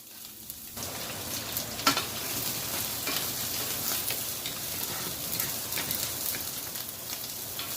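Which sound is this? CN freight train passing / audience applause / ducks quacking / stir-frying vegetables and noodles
stir-frying vegetables and noodles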